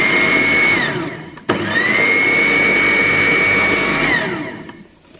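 A food processor pulses scone dough ingredients with cinnamon: a short motor whir, then a longer steady high whine of about three seconds that winds down, loud and close with no talking.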